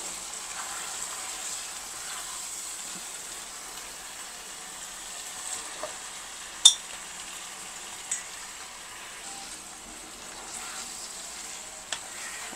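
Beaten eggs being stirred in a hot frying pan while cooking jengkol balado: a steady, soft sizzle runs throughout, with a few sharp clicks and scrapes of the utensil against the pan.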